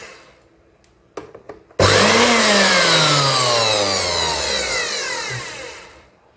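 A repaired Philips blender, previously dead, clicks a few times and then roars up to full speed, a loud steady high whine with a falling pitch sweep that slowly eases before cutting off.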